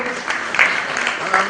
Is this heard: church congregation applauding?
yes